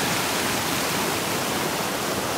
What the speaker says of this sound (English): You're looking at the little brook behind our house.